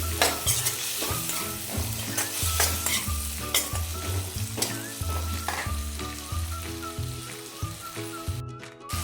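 Dried fish and tomato sizzle steadily in a pan while being stirred, for a spicy dry fish and potato curry; a continuous close frying hiss with repeated scraping strokes of the spoon, no voices.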